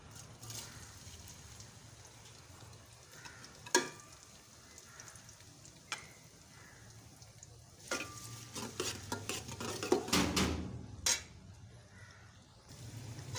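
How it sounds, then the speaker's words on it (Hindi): Chopped medium onions go into hot oil in a village kitchen and begin to fry, faint crackling and sizzling with scattered clinks and stirring scrapes that grow busier toward the end. "उसके बाद हमने ये प्याज फ्राई करना है"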